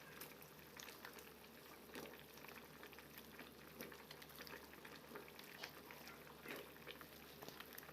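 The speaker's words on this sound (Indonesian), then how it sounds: "Nah, ini udah benar-benar mendidih." A pot of coconut curry bubbles and simmers steadily at a full boil, with a continuous soft crackle of boiling liquid and scattered pops, fairly quiet and close.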